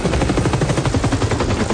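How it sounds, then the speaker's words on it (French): A cartoon helicopter's rotor beats in rapid, loud, regular thumping pulses, close and continuous. "regardez l'hélico"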